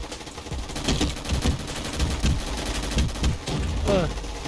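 Rapid bursts of automatic gunfire in a Roblox game rattle continuously with a few louder shots, over a steady game background and faint voices.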